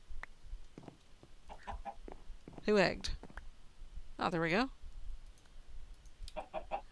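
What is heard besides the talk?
chickens clucking in Minecraft modpack Agrarian Skies video game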